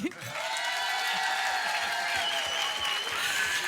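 A television studio audience applauds steadily, a dense wash of clapping that holds at an even level throughout.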